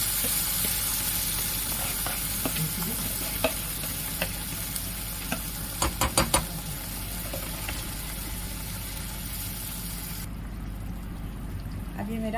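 Masala gravy for Afghani chicken fries in a pan with a constant sizzle, as a spoon stirs it with scattered scrapes and a quick cluster of clinks midway; the hiss drops a bit near the end.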